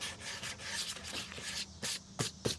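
Wooden pieces for a Halloween witch hat project are rubbed by hand to smooth their edges, a close, steady scraping in short back-and-forth strokes with a few sharper bursts near the end.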